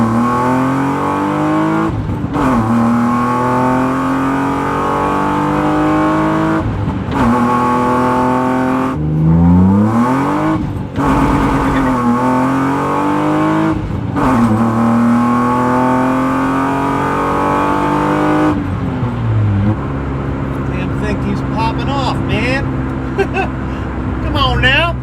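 BMW M3 engine revving hard under full acceleration, pitch climbing through repeated gear changes with brief dips between shifts, loud and close from inside the car, with someone talking over it.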